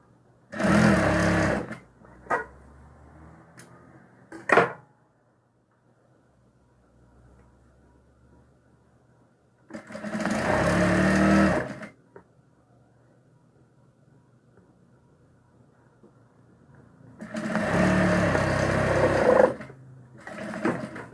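A sewing machine stitches a seam on a small fabric toiletry box in three separate bursts, each a steady mechanical whir lasting about two seconds with quiet pauses between, close and fairly loud with no talking.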